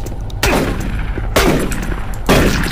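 Three loud shotgun blasts from the Doom 3 video game, spaced about a second apart, each a sharp close boom with a long decaying tail.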